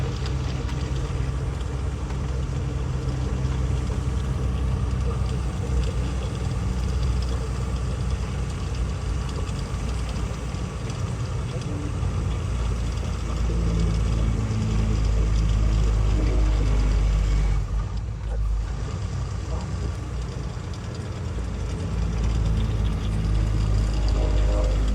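A Tata vehicle's engine running after being started, idling with a steady low rumble close by for the whole stretch, with a person speaking over it.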